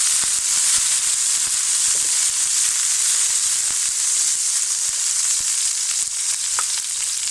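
Fresh garlic leaves dropped into hot cooking oil for a radish paratha dish, giving a steady, loud, bright sizzle and hiss that holds without a break throughout, with a few faint clicks beneath.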